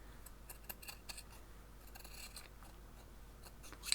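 Scissors cut a strip of fabric for crazy patchwork, making a run of soft, close snips and slicing crunches at a quiet level, with one sharper click at the end and no speech.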